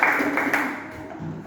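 Students in a classroom applaud a group's score, a short burst of many hands clapping together, close and fairly loud, fading out after about a second.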